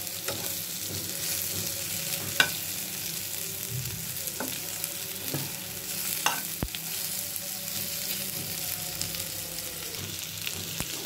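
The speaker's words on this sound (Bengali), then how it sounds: "অল্প আছে আমি খুব সুন্দরভাবে ভেজে নিচ্ছি শোল মাছটা।" Snakehead fish fries in a pan with a constant close sizzle and crackle, broken by a few sharp spatula taps and scrapes, no voices.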